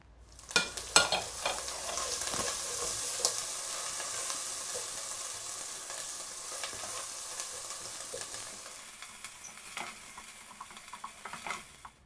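Ginger and ground spices fry in oil for an elephant apple pickle, a continuous close sizzle broken by frequent clicks and scrapes of a spoon stirring against the pan, easing slightly toward the end.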